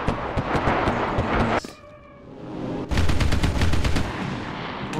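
Video game airstrike erupts in heavy bursts of rapid gunfire and booming explosions, loud and close, with a brief lull in the middle before the barrage resumes.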